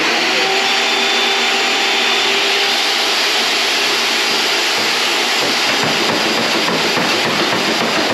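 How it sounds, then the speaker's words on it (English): A wet-dry vacuum cleaner runs continuously with a loud, steady whining roar, close by and without a break, used on a John Deere E140 lawn tractor's fuel system. "I'm gonna stick the vacuum cleaner in there one more time"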